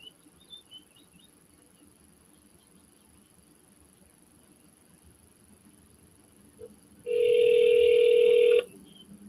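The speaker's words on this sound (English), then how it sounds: "Please leave your message after the tone." A phone call reaches voicemail and a single steady electronic beep tone sounds loudly for about a second and a half after a quiet stretch of faint line noise.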